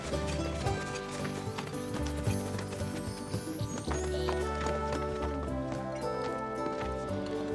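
Chocobos in a stable in Final Fantasy VII Rebirth, heard as soft clip-clopping steps and light bird-like calls beneath continuous game music, faint and steady throughout.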